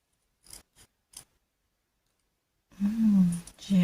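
Scissors cut paper for an Easter pop-up card: a few small, close clicks of the blades, a quiet pause, then a longer crisp snipping cut through the sheet.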